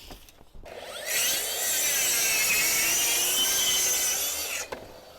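A handsaw cuts through a tongue and groove timber roof board in one long, loud, steady stroke run of about three and a half seconds, close up and with no talking.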